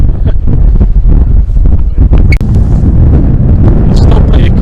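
Strong wind roars and thumps against the microphone on a Scottish hillside near Craigowl, loud and steady, with a voice speaking underneath the gusts.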